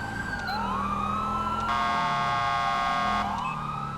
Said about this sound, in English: Okay, I'm turning off siren.